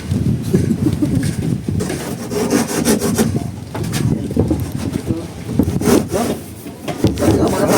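A hand saw rasps through wood in steady back-and-forth strokes, close and continuous, while people talk nearby and birds coo in the background.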